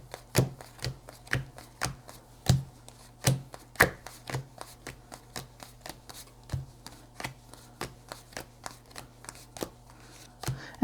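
Grand Lenormand cards are dealt one at a time onto a pile, giving a run of crisp close taps and slaps at a steady, slightly uneven pace with no talking.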